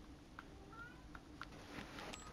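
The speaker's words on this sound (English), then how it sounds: "My cat is in my room." A pet cat meows softly in a room, giving a few faint, short calls spaced over a couple of seconds against quiet background hiss.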